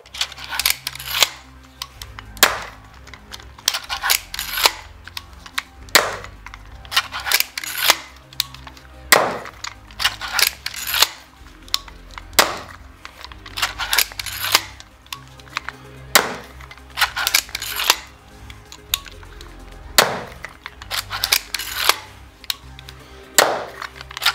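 EK Archery Vlad repeating crossbow emptying a full eight-bolt magazine, with sharp snapping shots every few seconds, each followed by clacking reload noises, fairly close and loud.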